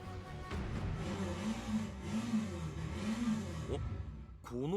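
A motorcycle engine approaches in a night-time video game, its steady mid-pitched drone rising and falling in slow waves before cutting off near the end.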